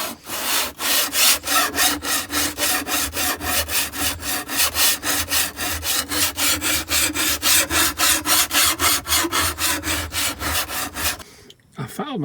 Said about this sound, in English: Then I'm just going to start filing it down.